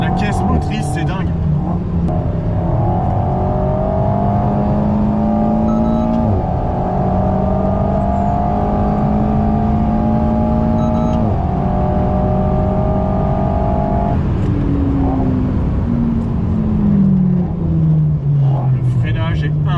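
Race car with a C20XE engine lapping a track day circuit, engine loud and close as it holds revs, shifts and pulls again, rising and falling pitch throughout while someone talks over the roar.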